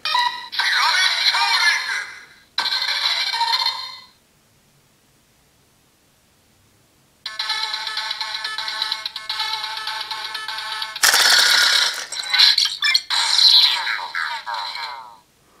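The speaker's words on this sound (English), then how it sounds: "it doesn't have a proper voice, just a lot of sort of mechanical sounds to it" Electronic tones from a Kiramager DX Shiny Kiramei Changer toy: bursts of warbling beeps and buzzy ringtone-like chirps, loud and close, separated by a few seconds of silence.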